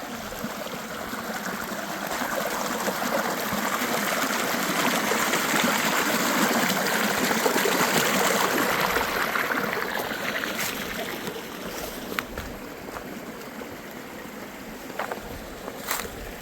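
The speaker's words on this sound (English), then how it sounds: "Nice little creek." A small mountain creek flows on a West Virginia hiking trail, a steady rushing trickle that swells and then eases slightly, heard close with a few soft knocks near the end.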